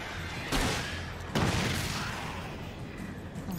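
Two sharp, loud blasts of a flare gun in the Alan Wake video game, about a second apart, each followed by a bright fizzing hiss that trails off over a steady rumbling background.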